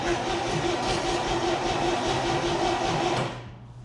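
A 1962 GMC 305 V6 engine in an old farm truck cranking over without firing, with a steady, even mechanical churn that stays loud, then drops away near the end.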